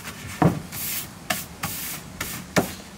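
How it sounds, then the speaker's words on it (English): Spray paint hissing onto a sanded wooden skateboard deck in a workshop, in several short bursts of a few tenths of a second each, close and fairly quiet, with pauses between them. "do a little spray paint or dye accents just to kind of make each board one of a kind"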